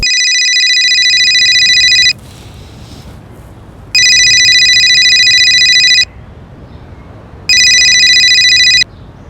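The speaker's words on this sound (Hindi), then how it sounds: "यूसुफ का फोन नंबर दीजिए, हम बात करते हैं।" A telephone rings on an incoming call, loud and close: three long bursts of bright electronic ringing, each about two seconds, separated by short quiet gaps.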